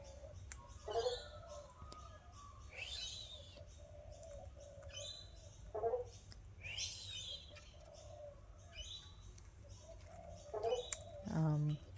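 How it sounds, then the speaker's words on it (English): A wild bird calls repeatedly in the background near an Australian King Parrot outdoors, with short cooing or chirping bursts spaced a few seconds apart, fairly faint behind steady ambient noise and occasional nearby speech. "there's one bird going off"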